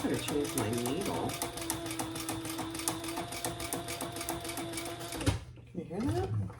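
A sewing machine stitches #5 zipper tape in a fast, steady mechanical chatter with a whirring motor hum, running continuously before stopping near the end, followed by brief handling sounds.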